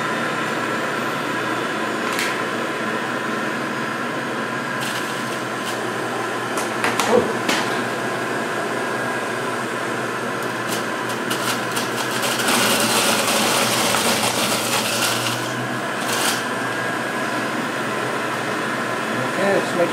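A Breville Ikon juicer whirs steadily as fresh blueberries are pushed through it, giving a constant motor drone with small rattles and a brief louder stretch, while a person talks.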